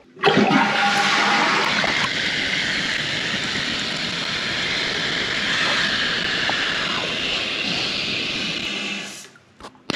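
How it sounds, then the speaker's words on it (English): Toilet flushing after its slow-filling cistern has had a washer replaced, a loud close rush of water lasting several seconds before cutting off near the end. "Let's give it another full flush just to make sure it's all right."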